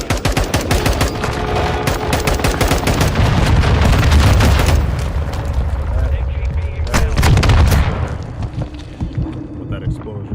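Explosions and rapid gunfire from a video game, a dense burst of shots and heavy booms that rumble and swell, then thin into scattered cracks; a voice talks over part of it.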